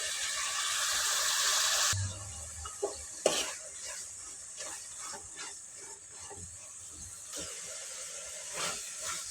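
Tomatoes frying in a pan for a tomato roti pachadi, with a steady hiss and sizzle at first, then softer frying crackle and occasional stirring clicks, close by.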